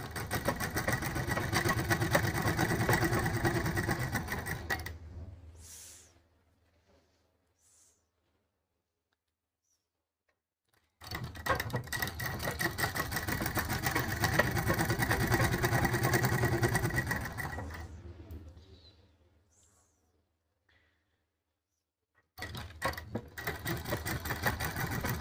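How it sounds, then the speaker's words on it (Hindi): A sewing machine runs a straight stitch along piping cord in two long bursts of steady whirring, stopping into silence between runs and starting a third burst at the end, with no talk. "ऐसे सीधी सिलाई चलाने के बाद हमने यहाँ ख़त्म कर दी।"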